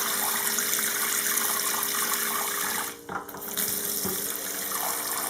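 Tap water runs steadily into buckets to fill them for a soak of sunflower seeds, a continuous broadband rush that briefly dips and shifts around the middle before resuming.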